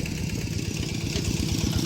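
A two-wheel farm tractor engine, the Thai rot tai na e-tok used in rice-field work, runs close by with a loud, steady, low chugging rhythm and a rattly clatter on top.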